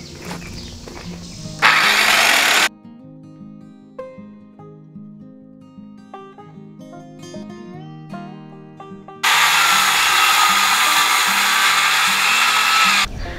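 A power saw rips wooden boards in half for a DIY chicken tractor build: a short, loud cutting burst early on, then a longer one lasting about four seconds, with tonal music filling the gap between them.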